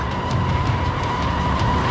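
A car races hard during a chase in Cyberpunk 2077, its engine roaring steadily with a whining tone and rough tire noise layered over it, loud and continuous with no pauses.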